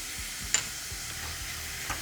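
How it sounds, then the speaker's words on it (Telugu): Sliced onions fry in a little oil in a pan while paneer burji is being made, giving a soft, steady sizzle with a few faint ticks and stirs. "నూనె కొద్దిగానే వేసాం కాబట్టి వేగడానికి కాస్త టైం పడుతుంది"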